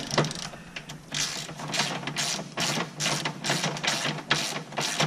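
A ratchet wrench tightens a bolt on a C4 Corvette, giving a steady run of close, rhythmic clicking strokes repeated several times.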